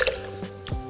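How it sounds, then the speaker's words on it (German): Water poured into a Thermomix bowl, heard as a close, wet splashing and dripping with a brief gurgle near the end, quiet and without talk. "600 Milliliter Wasser kommen ebenfalls in unseren Kessel"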